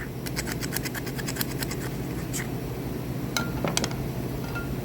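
A screwdriver scrapes the carburetor bowl of a Lawn-Boy lawnmower with a 6.5 Kohler engine, making a run of short, sharp metallic scratches and clinks, close up over steady background hum.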